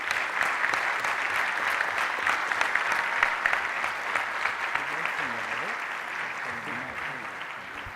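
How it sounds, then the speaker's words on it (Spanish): An audience at a medical lecture gives sustained, dense applause from start to end, the clapping fading slightly near the close while a faint voice murmurs underneath. "Yo quisiera solicitar entonces de ustedes que le brindáramos un aplauso"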